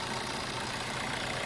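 A 2016-registered Maruti Suzuki S-Cross engine idling, a steady even hum with no change in pitch over a short stretch, with a broad background rush.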